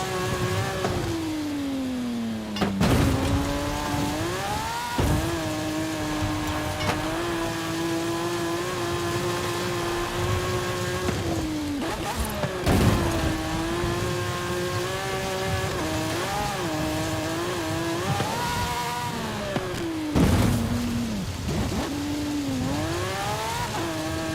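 A Lamborghini engine in Forza Horizon 5 revs and drones continuously while driving through sand, pitch climbing and dropping with repeated gear shifts and brief tire scrubs; no talking.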